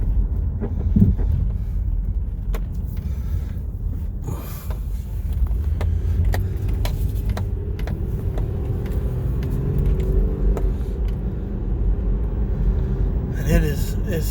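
A 2006 Subaru B9 Tribeca with a newly installed engine running, a steady low rumble with cabin and wind noise as someone talks over it nearby.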